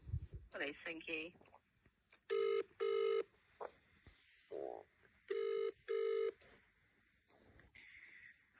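Telephone ringing on an outgoing call to police, two double ring bursts repeating with a pause between, clear and close, with a voice speaking briefly between the rings.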